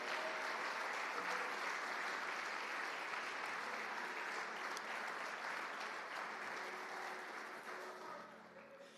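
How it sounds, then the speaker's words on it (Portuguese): Church congregation applauding during a Portuguese-language worship service, steady dense clapping throughout that fades slightly near the end, with no talk over it. "aplauda ao Senhor em nome de Jesus."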